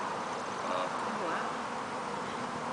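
Honey bees swarm around an opened hive on a spring day, a dense, continuous buzzing that stays close and steady throughout.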